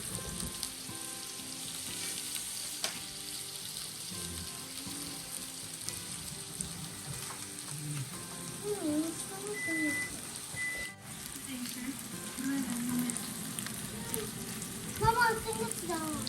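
Hotdogs fry in a pan with a steady sizzle and crackle throughout, occasional stirring clinks, while people chat nearby in Tagalog.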